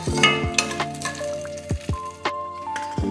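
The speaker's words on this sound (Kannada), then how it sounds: "ಈಗ 2 ಒಣಮೆಣಸನ್ನ ಸಣ್ಣಗೆ ಹೆಚ್ಕೊಂಡು ಹಾಕ್ಕೊಂಡಿದ್ದೀನಿ ಒಗ್ಗರಣೆಗೆ." Finely chopped dried red chillies crackle and sizzle in hot oil for a tempering, with sharp pops, spoon clinks and stirring scrapes against the pan, close and intermittent.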